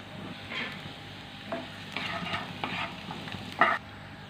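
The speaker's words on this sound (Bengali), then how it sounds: "এর মধ্যে দিয়ে দিচ্ছি 1 টেবিল স্পুন রসুন কুচি আর 1 টেবিল স্পুন আদার কুচি" Minced garlic and ginger frying in hot oil for a restaurant-style chilli chicken gravy, a steady close sizzle with intermittent stirring scrapes and a few louder bursts, no voices.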